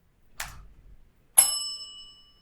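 A soft tap is followed by a single clear bell ding that rings out and fades slowly, heard alone in a quiet room during a children's warm-up exercise.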